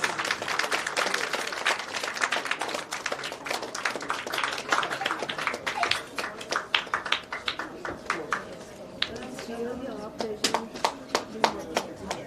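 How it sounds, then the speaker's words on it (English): An audience at a talk show event in a Bengaluru hotel claps, a dense burst of applause that thins into scattered claps, moderately near. "A huge round of applause."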